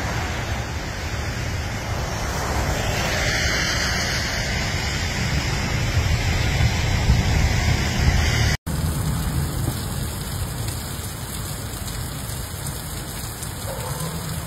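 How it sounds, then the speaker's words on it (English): Floodwater rushes during a flash flood in heavy rain in Arkansas and Missouri, a dense, steady roar of water and downpour that fills the whole stretch, close and loud, with a brief cut partway through. "And the water is just rushing so."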